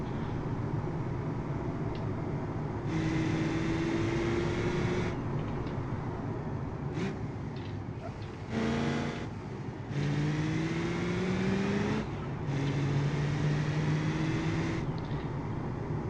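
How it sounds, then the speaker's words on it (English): A car engine in the BeamNG.drive video game revs in several bursts, each rising pitch climbing steadily before breaking off as gears change, with steady road noise underneath. "You can kind of hear a little bit of choo when I shift gears"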